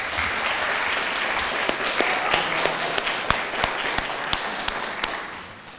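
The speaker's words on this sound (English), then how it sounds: "Let's please take a moment to applaud their extraordinary efforts." A crowd at an Optimist Club oratorical contest applauds the students, a steady wash of clapping with a few sharper claps standing out, fading gently at the end.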